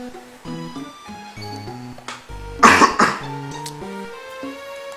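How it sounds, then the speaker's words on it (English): A single loud, close cough bursts out alone over quiet background music, sharp and harsh, with a brief throat-clearing rasp trailing into the soft tune. "Sorry if that cough hurt your ears."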